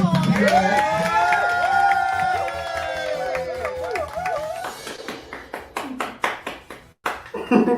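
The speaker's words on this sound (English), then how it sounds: "Clap for him." At a live comedy after show, music plays first, then the audience breaks into clapping and cheering for a comedian finishing his set, with scattered claps and whoops growing uneven toward the end.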